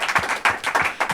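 A studio crowd at a live broadcast claps loudly and briskly in a short burst of dense applause.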